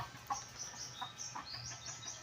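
Chickens cluck softly and intermittently against a steady low background hum, quiet and a little distant.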